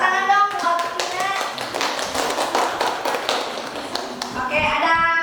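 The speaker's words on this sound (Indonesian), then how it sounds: "tepuk tangan dong buat Tina" A classroom of students claps for a classmate in a history lesson, the quick scattered applause running for several seconds with voices talking over the start and end.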